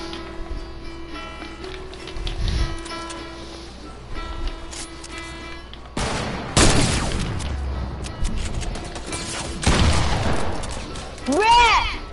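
Gunfire in a French-language multiplayer shooter game, with several bursts of shots and booms scattered over a busy game soundscape, while players talk over it throughout.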